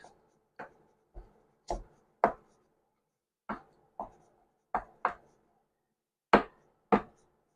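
A knife chopping Kalamata olives on a cutting board makes about twelve crisp, sharp knocks in an uneven rhythm, close and clear, with quiet gaps between them.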